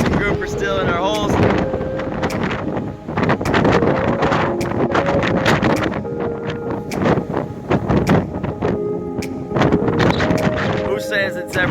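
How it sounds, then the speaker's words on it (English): Strong hurricane winds buffet the microphone at a fishing spot by the Skyway, a constant loud roar and rumble that runs through the whole stretch while people talk over it. "We had a hurricane blowing through."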